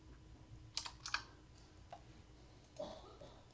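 A few quick clacks of computer keyboard keys as commands are typed, a short close burst of clicks followed by a single later keystroke, quiet and without talk.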